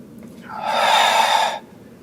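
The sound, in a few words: breathing in and out during a yoga exercise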